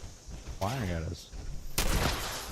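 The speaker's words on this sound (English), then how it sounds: "Firing at us." Someone speaks briefly, then a sharp, loud burst of gunfire erupts in Fallout 76, a single harsh crack with a short noisy tail.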